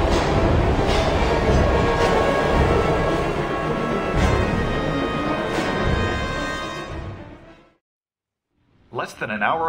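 Moving train in the Heavy Rain video game, a dense steady roar of rolling rail noise that fades out to near silence before a brief burst of sound returns at the very end.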